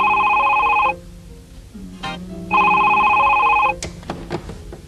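Telephone ringing in two long electronic rings separated by a pause, loud and near, with faint movement and background sounds between and after the rings.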